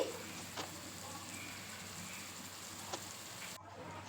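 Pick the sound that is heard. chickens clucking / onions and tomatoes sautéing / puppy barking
onions and tomatoes sautéing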